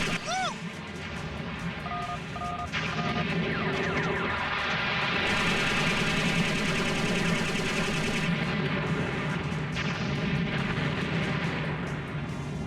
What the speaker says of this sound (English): Those artillery pods always being an annoyance.